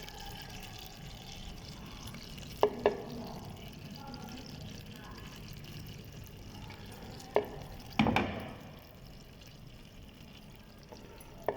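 Chicken pieces fry in about half a cup of oil in a pan, a steady soft sizzle running throughout with a few sharp clatters and stirring knocks now and then.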